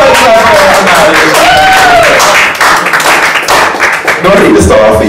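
An audience applauds a performer walking onto the stage at a nightlife show, with loud, dense clapping and crowd noise while a voice talks over it.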